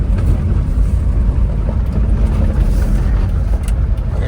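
A supercharged Subaru Sambar kei truck accelerates hard, its engine a steady, loud low rumble with road noise and no break.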